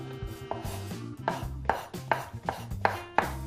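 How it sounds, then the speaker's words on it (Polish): Knife chopping food on a cutting board while preparing pork neck baked under a topping, with repeated sharp blade strikes against the board in an uneven rhythm, close and fairly loud, no talking. "duże musimy oczywiście pokroić na plasterki"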